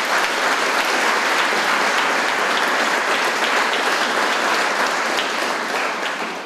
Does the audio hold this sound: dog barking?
no